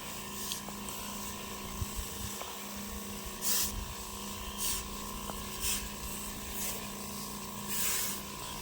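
A sprayer applies herbicide weed killer across a farm field, giving a steady droning hum with a low motor rumble and repeated soft hissing bursts of spray.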